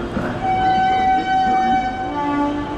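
A train pulls into Karjat station. A long sustained horn tone is heard over the rolling rumble of the cars, close and loud, with the pitch shifting slightly near the end.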